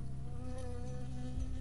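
A bee buzzes close and steady in the video game Firewatch, a faint continuous drone alone with no voices.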